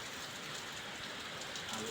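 Heavy rain pouring down in Dubai during a flood, a steady, dense broadband hiss that stays even and close for the whole stretch, with no voices over it.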